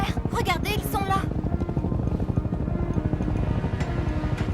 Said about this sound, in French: Vous entendez? Des hélicoptères!